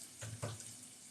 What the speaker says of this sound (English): So I'm actually gonna now extract the water from the cashews.